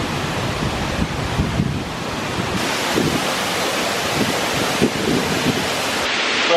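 A waterfall roars steadily on a road trip around the UK and Ireland, heard from close by as a constant broad wash of rushing water, loud and unbroken, with no talk.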